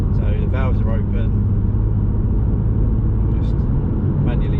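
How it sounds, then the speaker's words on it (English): Low, steady engine drone from inside a BMW M2 Competition running in Sport Plus mode with its exhaust valves open, droning under a voice for the whole stretch. "the engine is on Sport Plus, so the valves are open"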